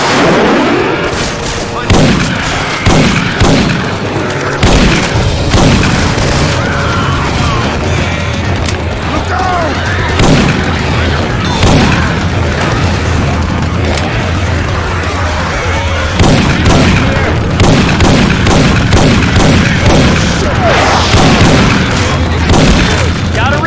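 Syphon Filter weapon sound effects swapped into Left 4 Dead 2 gameplay: repeated loud gunshots and booming blasts in bursts and volleys throughout, over constant background game noise and clatter.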